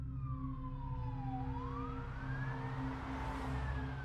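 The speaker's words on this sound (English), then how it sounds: "fire trucks roared down the street with their sirens wailing" Fire truck sirens wail, sweeping up and down steadily over a low rumbling engine drone, sounding close and continuous.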